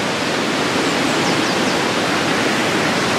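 A river rushes through a canal flood relief channel beside a lock, a steady, loud, broadband roar of churning water with no other sounds on top.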